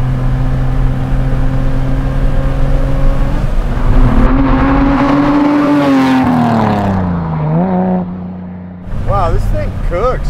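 A custom 1986 BMW E30 accelerates hard on an open road, its engine note rising loudly in pitch, dropping at a gear change and climbing again, with people talking over it.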